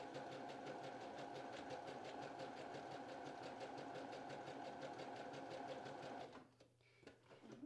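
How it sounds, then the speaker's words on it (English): Sewing machine running a zigzag stitch along raw fabric edges of a dress, a steady, fast mechanical whir with rhythmic ticking that carries on for several seconds, then stops abruptly, leaving quiet handling noise. "let the machine stitch for you. You're just guiding it through and it's gonna go back and forth zigzagging on the edge"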